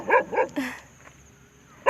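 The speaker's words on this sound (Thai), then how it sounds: "กลัวหมาหมาแม่งเห่าอีกแล้ว" A dog barks twice in quick succession near by, followed by a higher whine or yelp, then the scene falls quiet before a brief sound at the very end.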